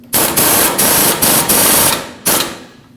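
A tie rod mounting nut on a Nissan Frontier 2WD being run down with a power tool: five close, loud buzzing bursts separated by short gaps, the last burst fading away.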